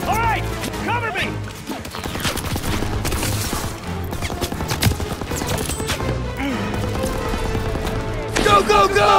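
Loud, dense battlefield gunfire in Call of Duty WWII, with rapid bursts, single cracks and crashing impacts piling on each other over the full stretch while soldiers shout over the din.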